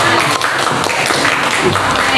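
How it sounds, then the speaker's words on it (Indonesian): A classroom of students claps loudly for a classmate, a dense, close burst of hands mixed with chatter. "tepuk tangan untuk Asrani"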